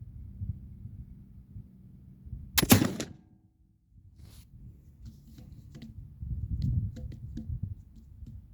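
A single shot from a Traditions Hawken Woodsman .50 caliber flintlock rifle on a range: one loud, slightly drawn-out blast that quickly fades, with low wind-like rumble before and after.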